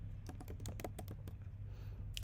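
Quick bursts of clicking keystrokes on a computer keyboard as a username is entered into a web form input field, close and fairly quiet over a steady low hum, with no talk.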